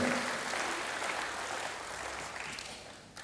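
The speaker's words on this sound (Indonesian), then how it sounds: "Berikan tepuk tangan bagi Tuhan, haleluya" Congregation applause during a church sermon, a faint, steady wash of many hands clapping at a distance, fairly even throughout.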